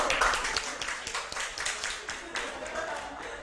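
Students in a secondary-school science classroom clap for a classmate, a faint, loose scatter of hand claps with distinct individual slaps, heard alongside murmuring voices.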